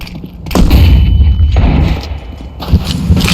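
Flashbang grenade going off in Counter-Strike during a Vitality vs FaZe match at the Budapest Major, heavy booming thuds close and loud across the clip with a second hit toward the end.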